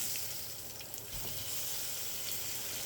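Steak sears in a pan with a steady hissing sizzle, moderately quiet and close, with a few faint pops and a light clatter partway through; no one speaks.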